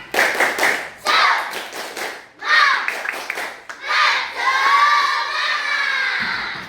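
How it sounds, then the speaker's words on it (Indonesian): Schoolchildren in a classroom perform a rhythmic spirit clap, a few bursts of patterned clapping mixed with children's voices and shouting, followed by a sustained chant-like vocal passage. "Tepuk semangat dulu untuk anak-anak ibu"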